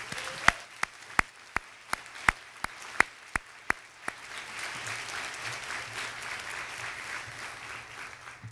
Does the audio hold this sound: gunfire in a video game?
no